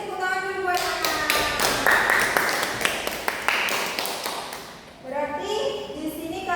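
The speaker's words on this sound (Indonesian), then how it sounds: "Beri tepuk tangan dulu buat anak." A classroom of students bursts into applause for a classmate, a dense, loud patter of clapping that rises quickly, holds for several seconds and fades out, with children's voices around it.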